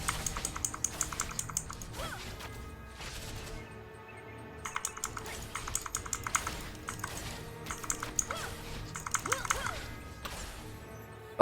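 Rapid clattering keystrokes on a computer keyboard come in bursts with short pauses, close and crisp, while a voice talks over parts of the typing during an online game session.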